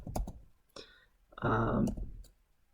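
Keys clacking on a computer keyboard as a command is entered at a Windows 10 administrator command prompt, a few short bursts of clicks with a denser run of typing in the middle, close and fairly quiet.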